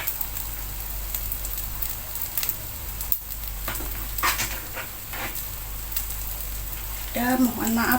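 Omelette eggs frying in oil for a simple end-of-month meal: steady crackling sizzle throughout, with scattered pops and a brief voice near the end.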